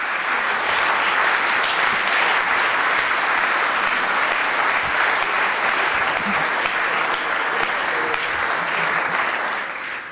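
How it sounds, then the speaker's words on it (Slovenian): An audience applauds at a business achievement award ceremony with dense, loud, sustained clapping that fills the room and begins to fade near the end. "Vas pa, da vse to pospremite z glasnim, toplim in spodbudnim aplavzom"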